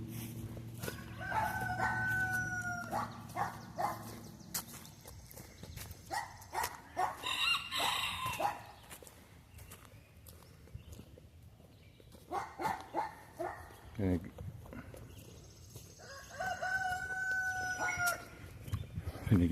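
Farm chickens cluck and a rooster crows in repeated bursts, close and fairly loud, with a dog barking now and then amid outdoor background noise.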